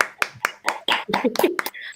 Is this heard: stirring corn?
no